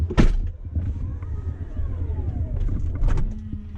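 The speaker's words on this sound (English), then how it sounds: "now all the doors are going to close" The Falcon Wing doors of a 2018 Tesla Model X P100D close automatically, a rising and falling electric motor whine with a soft whir and mechanical clunks, ending in a thud as the doors shut.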